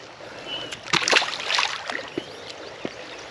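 A striped bass released back into Mississippi River water makes a few brief splashes and sloshes near the boat, short irregular bursts over a soft background of moving water.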